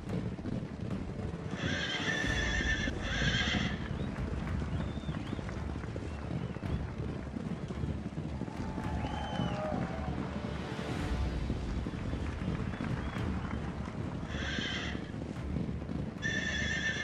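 Horses neighing and whinnying in a chariot race in the video game Artformer, with a few bright whinnies standing out over steady hoof clatter and wind rushing at constant loudness.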